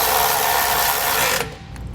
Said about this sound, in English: But just really snugging it down should be enough.